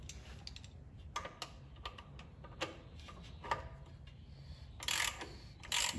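Ratchet clicks while an oil filter is tightened under a 2011 Toyota Corolla, short quick bursts of ratcheting over steady background noise in a garage, with no talk.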